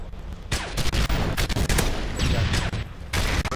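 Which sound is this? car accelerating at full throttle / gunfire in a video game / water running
gunfire in a video game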